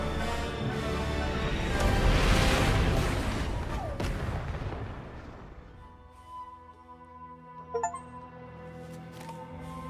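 A big explosion in the video game The Outer Worlds 2 booms loudly and rolls on for several seconds before fading into a quieter low rumble with a few scattered clanks.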